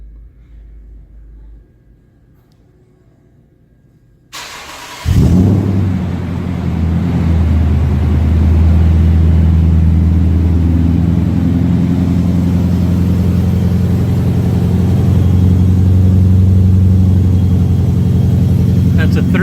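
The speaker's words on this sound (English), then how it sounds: "hit the remote start" A 2012 Toyota Tundra TRD Sport with a 3-inch exhaust, X pipes and long-tube headers starts by remote after a quiet pause, cranking into a loud, deep, rumbling idle that holds steadily up close.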